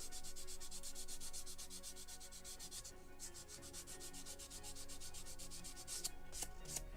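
Steady, continuous sanding of wood for a model ship kit's deck parts, a rhythmic rasping scrape that repeats in quick strokes, close and fairly loud with no voices.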